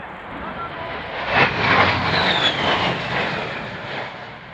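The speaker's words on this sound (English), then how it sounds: "Captain Shutterly straight into the burn, demonstrating the Warthog power and maneuverability in all attitudes of flight." An A-10 Warthog jet performs a flying display at the Royal International Air Tattoo 2011, a loud broad engine roar that swells and sustains throughout with a rising whine near the middle and announcer talk over it.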